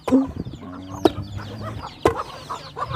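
Chickens cluck in short, repeated calls over a farmyard where ducks are also kept, with a few sharper, louder clucks standing out against steady background bird noise.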